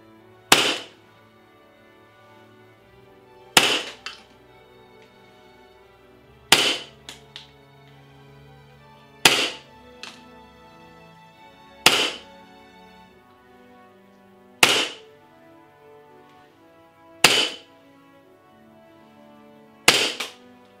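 Colt M1911A1 parkerized grey airsoft pistol firing eight sharp, loud shots spaced roughly every two and a half to three seconds, each a crisp crack with a short ringing tail, heard alone with no talking.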